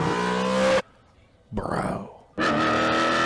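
A custom car, the Sick Fish 2.0, gives a short burst of engine revving with tire noise, set between stretches of loud talking.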